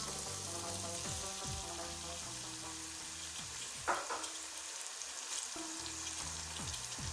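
Tomatoes hit a pan of spiced masala for an aloo palak dish, frying with a soft, steady sizzle. A spoon clinks and scrapes now and then, and a low hum runs underneath, with no talking.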